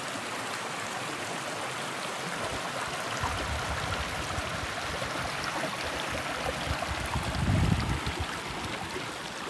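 The Piscataquis River along the Appalachian Trail flows with a steady, broad rushing wash, a constant moderately loud roar of moving water that swells briefly near the end.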